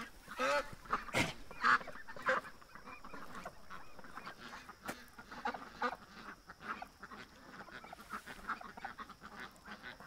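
Canada geese and ducks at a waterside give faint, scattered honks and calls, a loose irregular chorus with a few louder close honks early on.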